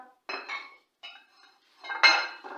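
Fried pakoras going into a pot of kadhi, with a few short clinks and scrapes of utensils against the cooking pot, close and intermittent.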